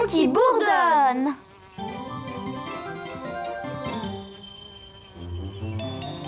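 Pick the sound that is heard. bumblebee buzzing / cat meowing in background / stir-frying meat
bumblebee buzzing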